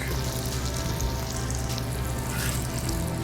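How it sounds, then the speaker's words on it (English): Garlic added to melted butter in a pan, giving a steady, close sizzle and crackle that runs without a break and stays at an even level throughout, with no talking. "Now we got the butter melted, we're going to add the garlic,"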